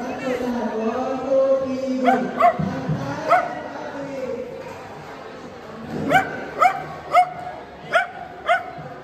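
A large dog barks repeatedly in short, sharp yips, a few early then a quick run of barks later, with people talking around it.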